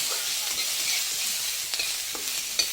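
Chopped onion frying in a little oil in a home kitchen, a continuous bright sizzle with occasional stirring clinks and scrapes against the pan, no voices.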